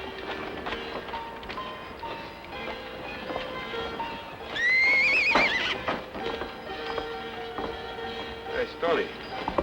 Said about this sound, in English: Stony, take a look at that horse.